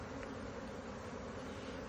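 Honeybees buzz steadily during a hive inspection, a faint, continuous drone with no talk.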